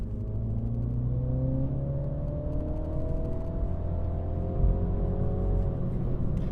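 A 2015 MINI John Cooper Works engine pulls steadily in sport mode on a wet road, its note rising gradually in a continuous, loud drone with no talk over it.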